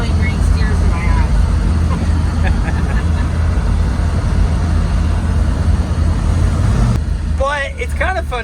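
A 1977 Ford F150 pickup drives along with a loud, steady engine and road rumble throughout, and people talk over the noise inside the cab.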